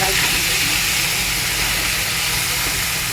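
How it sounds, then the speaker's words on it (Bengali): Fish and gourd greens hit a hot cooking pan, giving a steady, loud hiss and sizzle that fills the whole moment without pause. "এবার আমি এই মাছটা দিয়ে দিই, লাউ শাকটা দিয়ে দিলাম"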